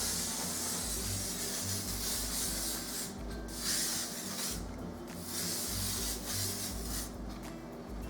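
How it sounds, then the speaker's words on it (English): Hairspray hisses from an aerosol can onto a pixie cut being styled into a pompadour, a steady close spray broken by short pauses between bursts, with no talking. "Now I'm gonna go ahead and use some hairspray."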